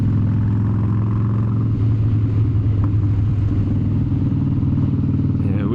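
An older Harley-Davidson motorcycle idling and rumbling steadily, a deep loping engine tone close and loud, with slight revving and clatter and no talking.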